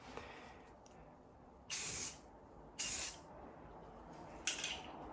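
Three separate bursts of aerosol spray paint, each about a second long with a hiss, applied as the final coat on a repaired tail crack of a 5-foot wake surf board, with quiet pauses between bursts.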